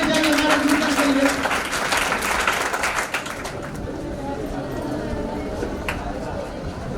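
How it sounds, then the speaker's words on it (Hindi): Audience clapping at a results day and prize distribution ceremony at a tuition centre, applause honouring teachers; a dense, loud patter of many hands for the first few seconds that thins out, with someone talking over it. "जोरदार ताली होनी चाहिए हमारे गुरुजन के लिए।"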